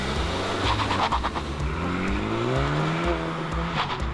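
A 2017 Honda Civic Si sedan accelerates hard, its engine note climbing through rising revs with a brief tire chirp, loud and close, and no talking.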